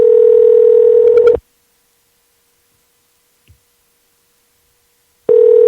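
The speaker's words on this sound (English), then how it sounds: "Let's call him back and get Timothy Cullen back on" A loud steady telephone dial tone on a landline call back to a radio guest sounds for over a second, breaks off into silence with a faint click midway, then returns abruptly at the end.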